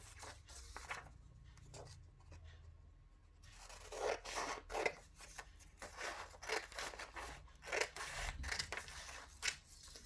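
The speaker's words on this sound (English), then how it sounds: "So you need to cut along this line here, so it turns it into that square." Scissors snip along a fold line in paper while making a bookmark: a quiet start, then a run of close, crisp cutting strokes in an uneven rhythm.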